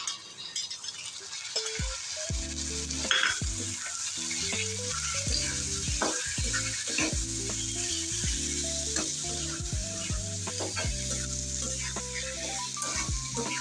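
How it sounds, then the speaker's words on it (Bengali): Prawns fry with onion paste in hot oil, a close, continuous sizzle broken by repeated clinks and scrapes of a spatula stirring in the pan. "চিংড়ি মাছটা আমি পেঁয়াজের সাথে ভালো করে ভেজে নেবো লাল লাল করে"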